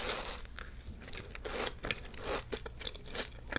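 Close, quiet crunching and chewing of a crunchy, chewy Dubai chocolate cookie, with soft irregular bites and mouth sounds.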